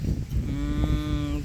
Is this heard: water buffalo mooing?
yes